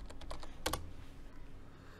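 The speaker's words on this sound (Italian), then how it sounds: "quindi digito" Typing on a computer keyboard during a lesson on the Canva platform: a short run of light key taps, then two louder clustered strokes, all fairly close over faint background hiss, with no voice.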